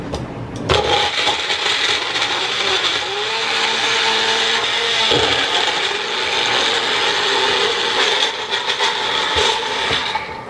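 A blender grinds a smoothie in a long, loud, steady whir with a grinding rasp. The pitch shifts slightly midway as the contents churn, and the motor runs nearly the whole time with no talking.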